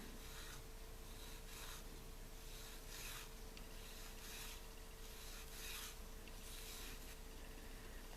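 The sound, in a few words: rubbing knife guard side to side with Scotch-Brite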